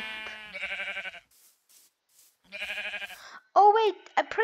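Sheep in the Survival Craft video game bleating in a few short quavering calls, separated by quiet gaps, with a final pair of sharper, higher bleats close by.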